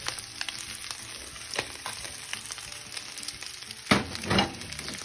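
Onion and green beans frying in a pan for homemade chop suey, a steady sizzle throughout with a few louder bursts near the end, no talking.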